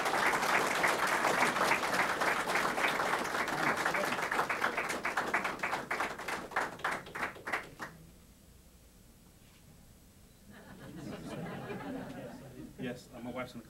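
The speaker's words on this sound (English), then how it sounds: "So let's give him a round of applause" Audience applause for a police officer's promotion to captain at a police department ceremony: dense, steady clapping that thins into scattered claps, then fades to quiet before voices and a few more claps return.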